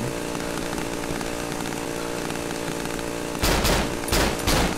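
Chainsaw wielded by the Chainsaw Pincushion enemy in the horror game Cry of Fear, a loud continuous buzzing engine drone, then sharp bursts of gunfire cutting in near the end.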